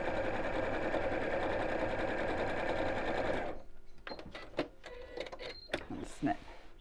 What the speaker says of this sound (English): So starting at the top of the pocket, I'm going to make sure I reverse stitch a few stitches